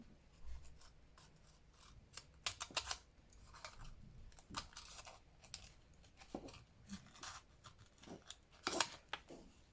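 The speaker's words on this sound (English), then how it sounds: "now let's set about cutting this out" Scissors trimming through a stitched fabric Advent page with pins in it, giving faint, close snips and rustling cuts in uneven bursts, with no talk.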